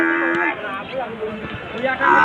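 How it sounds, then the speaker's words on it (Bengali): Buffalo lowing at a busy buffalo market in Panchbibi, several drawn-out moos rising over a steady crowd murmur, one near call at the start and another swelling at the end. "স্বাগত জানাচ্ছি পাঁচবিবি মহিষের হাটে"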